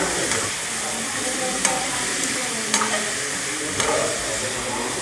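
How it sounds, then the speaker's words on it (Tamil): Steady sizzling and frying of mutton sautéing in a pan with occasional scraping stirs, continuous and close. "இப்போ வந்து மட்டனை சேர்த்துக்கோங்க அரை கிலோ மட்டனு நல்லா வந்து"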